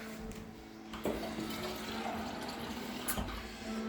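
Water runs steadily into a pot for a few seconds, a continuous splashing pour with a brief knock near the start.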